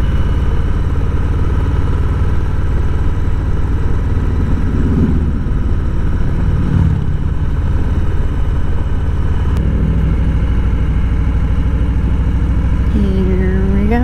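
A Harley-Davidson Low Rider motorcycle rumbles steadily on a highway, its engine a constant loud drone mixed with heavy wind noise, with a short rising rev toward the end.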